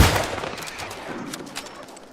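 A single sharp gunshot in New World is fired at a turkey, with a loud crack at the start decaying into a fading echo and small after-sounds.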